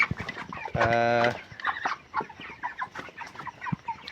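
Thirty-two-day-old broiler chickens on a poultry farm give a loud drawn-out squawk followed by scattered low clucks, close and without talk.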